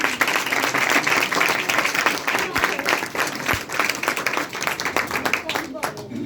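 A church congregation applauds loudly for Jesus during a worship service. Vigorous, continuous clapping from many hands fills the whole span, with some voices mixed in beneath the claps.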